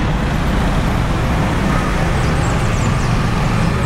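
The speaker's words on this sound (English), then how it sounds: "It is rush hour traffic, so this is about as busy as you will see the main street" Rush hour traffic on a main street in Tena, Ecuador, forms a loud, continuous roar of passing cars and buses. The wash of engine and tire noise stays steady throughout, with no clear pauses.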